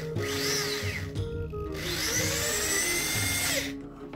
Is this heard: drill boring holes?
yes